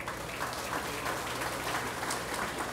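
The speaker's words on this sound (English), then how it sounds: "Let's give them a round of applause." A crowd at the Fancy Farm gathering claps for St. James Catholic Church, dense steady applause from many hands filling the space, with no speech over it.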